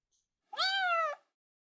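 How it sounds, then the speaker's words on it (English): A small gray kitten gives a single clear meow, rising then falling, close and fairly soft against silence. "The kitten looked up at her and meowed again."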